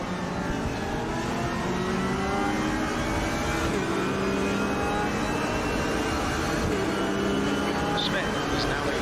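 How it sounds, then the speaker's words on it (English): A race car engine in a racing sim revs continuously and loudly, its pitch rising and falling through gear changes, with a couple of brief sharp pops near the end. "You can hear the pops and bangs of the car."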